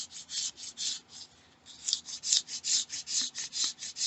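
A flint flake scrapes a piece of dried wood into shavings, giving a steady series of quick, close raspy strokes with a short pause partway through and no voices.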